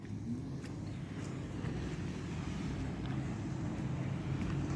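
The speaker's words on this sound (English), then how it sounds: "You can hear the boats like crazy." Motorboats on a lake drone continuously from a distance, a steady low rumble heard from a hiking trail with no other distinct sounds over it.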